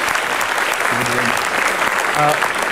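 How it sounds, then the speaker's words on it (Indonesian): An audience at a motivational talk show applauds, loud continuous clapping from a large crowd, with brief voices or tones rising through it twice. "Kita berikan tepuk tangan."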